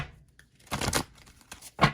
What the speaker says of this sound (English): Feel like one more of these shuffles